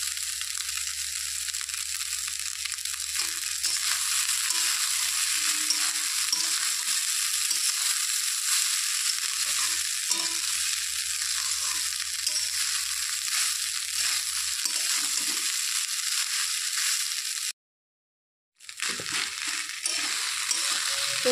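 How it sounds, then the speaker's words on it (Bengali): A spatula scrapes and presses through clumps of leftover rice frying in a pan, making steady crunchy scraping over a constant loud sizzle that cuts out briefly near the end before resuming. "খুন্তি দিয়ে যে দলা পাকানো ভাতগুলো আছে ওগুলোকে ভেঙে ভেঙে দিতে হবে।"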